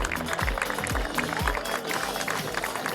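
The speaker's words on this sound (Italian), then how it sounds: "andate a prendervi gli applausi" Audience applause at the Fossò Chic 2025 fashion show in Fossò, near Venice, a steady wash of clapping from a crowd with thumping beats of music underneath.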